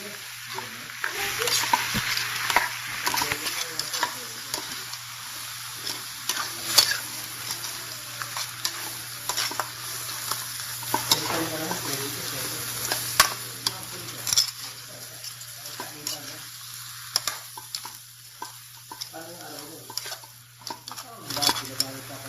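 Shrimp sizzling in a hot pan for pansit bihon, stirred with a utensil that scrapes and clatters against the metal, with steady frying hiss underneath and a voice talking intermittently.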